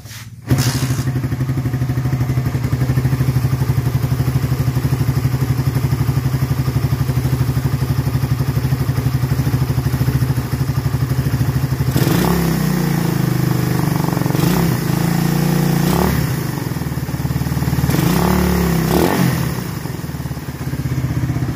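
A Rusi Raider 150 motorcycle engine, with a can-metal shim fitted, idles loudly with a steady chugging rumble, then revs up sharply several times before settling back, close by.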